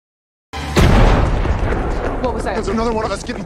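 A grenade blast in a violent film scene in a forest bursts in loudly after half a second of silence, then rumbles and decays into a continuing roar with a voice rising beneath it.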